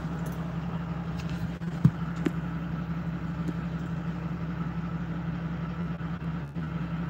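A truck engine idling with a steady low rumble that holds evenly throughout, close by, with a couple of faint clicks and no talk.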